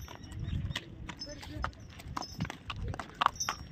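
Horse hooves clip-clop in an uneven series of sharp knocks at the Table Point plateau in Panchgani, moderately near, with people talking over and between the steps.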